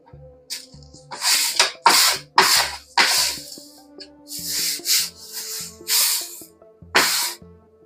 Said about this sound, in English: And spray all the edges and the bottom.